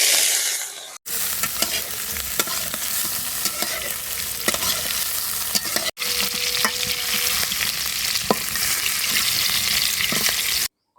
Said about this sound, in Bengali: চিংড়ি গুলো তেলে ভেজে নেবো।